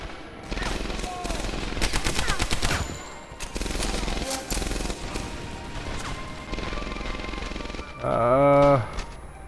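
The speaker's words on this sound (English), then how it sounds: "Oh, this pistol's got recoil for days." Rapid gunfire in the video game Medal of Honor: Airborne, heavy pistol shots and fast bursts close up, repeating in clusters and ending with a loud tonal in-game sound, with no talk over it.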